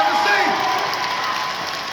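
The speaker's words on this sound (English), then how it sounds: "you just talked shit about Daryl and got applause" Convention audience at a fan event in Sydney applauding and cheering in a large hall, a steady wash of clapping and crowd noise with scattered whoops, holding then easing off slightly.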